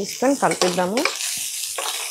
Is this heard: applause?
no